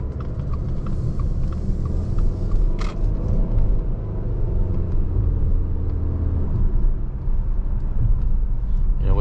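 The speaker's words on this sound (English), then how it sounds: "With the CVT, it does kind of wind out a little bit, and then it sort of calms itself down." Cabin of a 2022 Subaru Ascent Touring with a CVT driving on the road, a steady low engine and tire rumble that holds even throughout, with a few faint clicks early on.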